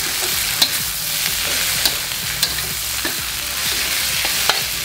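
Beef stir-fried with winged beans in a hot pan: constant loud sizzling with repeated sharp scrapes and clinks of a spatula, up close and without voices.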